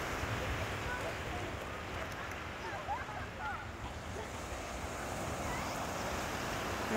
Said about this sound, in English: We're now on Langrannog Beach